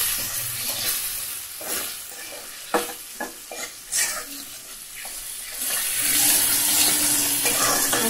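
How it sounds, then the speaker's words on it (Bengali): A ground cumin and coriander paste sautés in a pan, sizzling under repeated stirring clatters and scrapes that grow denser toward the end, close by, with no talking. "কষিয়ে নিচ্ছি।"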